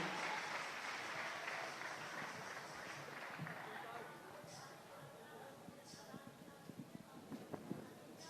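An audience at a religious gathering applauds in honour of a revered spiritual figure, a dense round of clapping that thins into a few louder separate claps toward the end, with voices in the mix.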